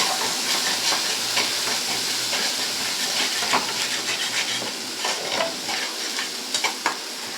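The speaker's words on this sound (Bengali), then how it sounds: "পোস্ত আর বাদামটাকে যে আমি পেস্ট করে রেখেছিলাম এটাকে আমি কিন্তু ভালো করে ভেজে নিচ্ছি" A paste of poppy seeds and peanuts with a little ginger fries in oil for aloo posto, a loud, continuous hissing sizzle with scraping stirs and occasional sharper pops.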